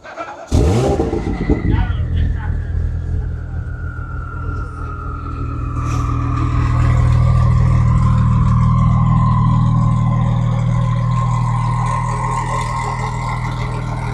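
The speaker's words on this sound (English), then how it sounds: "We got the cars, getting them warmed up, getting ready for a rollout." Several drift cars idle and rev trackside at a drift event while warming up, a steady close engine rumble that swells louder midway and holds, with background voices.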